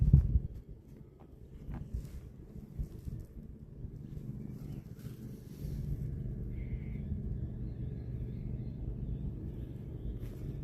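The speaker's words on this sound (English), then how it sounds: "I could swear I just heard thunder." Low, distant thunder rolls steadily beneath wind noise near a shoreline, a long deep rumble that swells after a few seconds and holds for the rest of the stretch.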